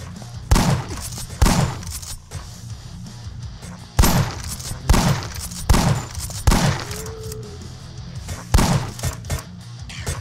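Gunfire booms in the zombie video game Ultimate Zombie Defense 2 on a bridge, loud repeated shots arriving in irregular bursts of one or two over a constant low rumble.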